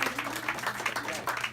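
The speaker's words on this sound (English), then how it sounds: "Everybody clap, that's great." Faint, quick rhythmic clapping from an audience, like distant applause, with a voice faintly underneath.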